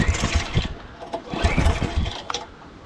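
A Predator 420cc rental go-kart engine is pulled over repeatedly, sputtering in uneven bursts that fail to catch into a steady run, heard up close and loud.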